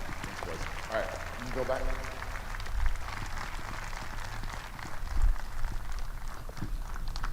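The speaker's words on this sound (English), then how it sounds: "join me in another round of applause for these cadets" Applause for cadets recognized at Army and Navy Academy awards ceremony with military parade, soft scattered clapping in a large space, with someone speaking briefly over it and low rumbling thumps.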